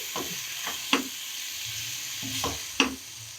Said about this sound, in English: Now we'll fry it.